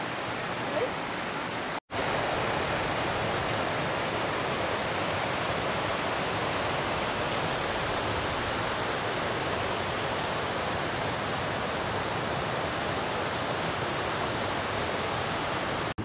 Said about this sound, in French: j'avais pas vu la grande cascade là-haut